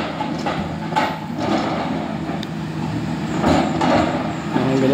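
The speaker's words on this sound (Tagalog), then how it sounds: "Ganyan pala gumagana ang drilling machine." A soil-test drilling machine digs into the ground at a windmill site on Alabat Island, giving a steady, loud mechanical rumble with faint knocks throughout and no talk.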